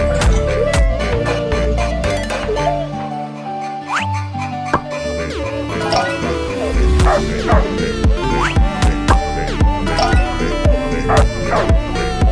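A puppy with a fractured leg barks and whimpers in short yips over loud, busy cartoon-style music with chimes and effects, the dog sounds mixed among the musical hits.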